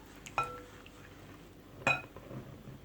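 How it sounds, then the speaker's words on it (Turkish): Börek dough ingredients being mixed with a spatula in a bowl, two faint clinks of the utensil against the bowl over quiet background. "Hemen malzemelerimizi iyice birbirine karıştıralım."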